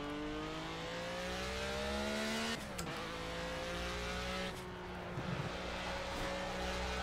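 A Renault Alpine A442B race car in the Project CARS video game, its engine droning steadily at high revs, then briefly dropping with gear shifts before climbing again, loud and close throughout.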